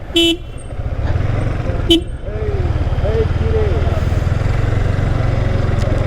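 Two short auto-rickshaw horn toots early on, over its steady rumbling engine drone on a Sylhet town street, with brief voices in the background.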